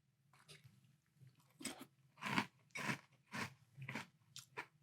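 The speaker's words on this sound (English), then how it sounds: "let's give a try to Rice Krispies Treats cereal in milk" Rice Krispies Treats cereal in milk crunches between the teeth in about eight distinct chewing bites, close and fairly quiet, with no talking.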